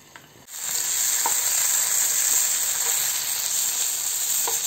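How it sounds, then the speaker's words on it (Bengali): Kohlrabi pieces frying with spices in a pan over low heat, a loud steady sizzle that starts abruptly and carries on with faint stirring clicks. "দেখুন মশলার সাথে ভালো করে ভাজা হয়ে গেছে।"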